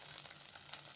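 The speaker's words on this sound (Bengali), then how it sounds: "বরবটিটাকে ভেজে নেব।" Yardlong beans fry in oil in a pan, giving a faint, steady hiss and crackle of sizzling with no speech.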